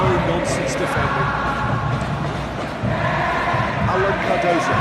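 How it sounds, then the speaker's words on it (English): A football stadium crowd at an Indonesian league match roars in a steady, loud wash of cheering after a defensive play, with a commentator talking over it. "the crowd clearly like what they just saw"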